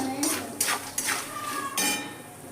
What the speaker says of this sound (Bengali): জিরেটা আর পোস্তটা ভালো করে তেলে নেড়ে নিতে হবে